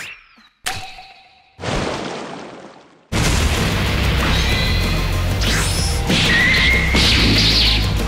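A Dragon Ball Xenoverse battle erupts in a sudden loud blast after several sharp whooshing game effects, followed by sustained rumbling crashes and energy sounds.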